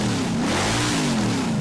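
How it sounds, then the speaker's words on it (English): A car nicknamed Rusty, taking part in the Variety Bash charity motoring event at a Port Augusta checkpoint, revs its engine loudly up close, the pitch rising and falling in a single sustained rev. "Rusty revving and raring to go"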